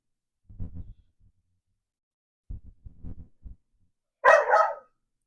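A dog barks outside a house, wanting to come in: muffled low woofs in two short bursts, then a sharper, brighter bark near the end, with silence between them.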